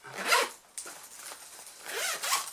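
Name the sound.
zipper closing a colored pencil case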